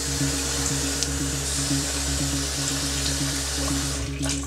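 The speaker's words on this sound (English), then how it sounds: "Quick cold water rinse." Cold tap water runs steadily into a sink for a post-shave rinse, a continuous close splashing flow with a low mechanical hum underneath and no talking.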